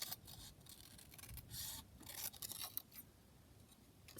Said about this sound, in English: I'm just going to cut along kind of the entire length of the sentences